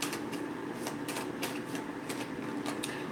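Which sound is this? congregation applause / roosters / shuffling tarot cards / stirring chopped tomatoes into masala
shuffling tarot cards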